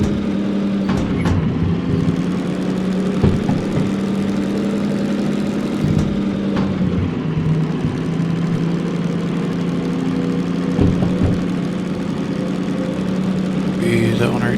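A locomotive engine in the Derail Valley train simulator runs with a steady, low rumbling drone throughout, with a few brief clunks and talking over it.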